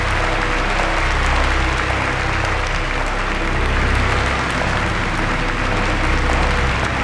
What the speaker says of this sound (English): I know they're applauding